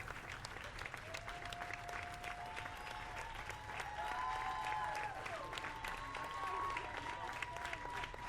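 Steady crowd applause in the video game Slay the Princess, many hands clapping densely and evenly at moderate volume, with faint tonal game sounds running underneath.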